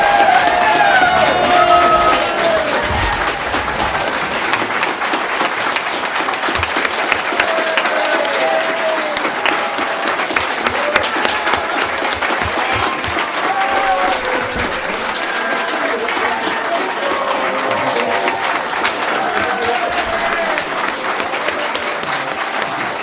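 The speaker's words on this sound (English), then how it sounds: "give a round of applause, please," Warm audience applause at a memorial lecture welcoming Jeremy Corbyn MP, a long steady wash of clapping with a few cheers and whoops, loud and close.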